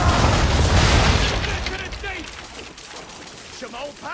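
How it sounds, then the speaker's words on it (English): Ship cannons fire a broadside in the Assassin's Creed 3 naval battle, heavy booming blasts crowding together loudly at first, then thinning into scattered distant thuds and crackles while voices and battle noise carry on underneath. "Now, aim all guns at her bow and do as much damage as possible. Prepare to fire!"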